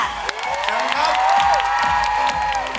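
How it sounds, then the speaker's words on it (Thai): A large audience at a televised fashion-model competition finale applauds and cheers continuously and loudly, with whoops and shouts over steady clapping. "ขอเสียงปรบมือกับ The Face Thailand คนที่สองตีชา กันติชาชุมมาค่ะ"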